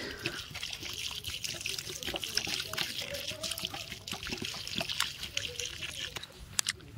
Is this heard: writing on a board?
no